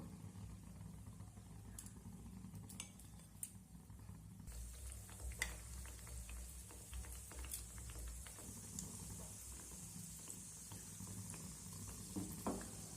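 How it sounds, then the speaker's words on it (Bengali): Steady bubbling sizzle of semolina pitha batter frying in refined oil in a frying pan, continuous and close, with a few light clinks of a utensil and no talking. "পিঠাগুলো ভাজার জন্য এখানে আমি ফ্রাই প্যানের মধ্যে পর্যাপ্ত পরিমাণে রিফাইন তেল দিয়ে দিয়েছি"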